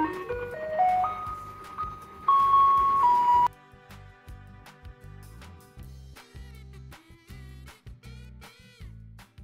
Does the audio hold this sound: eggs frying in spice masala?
no